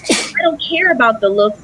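A single sharp, loud sneeze bursts out at the start, immediately followed by a person talking.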